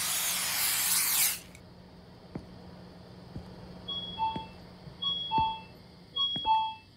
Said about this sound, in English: you just literally spray the rat